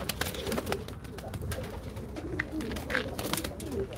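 Pigeons coo steadily inside a coop, soft repeated calls overlapping close by, with wing rustles and small clicks throughout. Someone speaks briefly and quietly.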